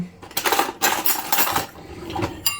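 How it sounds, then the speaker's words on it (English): Metal fork clinks rapidly against a small bowl while flour and a little milk are whisked together, close and fairly loud, in irregular bursts of scraping and tapping with no voice present. "let's mix it with a fork"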